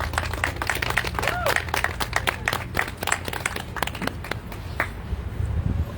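Audience at a Stop False Police Reporting rally in the Bronx's Lou Gehrig Plaza claps steadily for about six seconds, a dense, continuous patter of hands from a mid-sized outdoor crowd, with a few voices mixed in.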